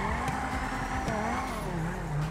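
A car drifting in GTA 5, its engine droning steadily at high revs with faint tire squeal, loud and continuous throughout with no talk.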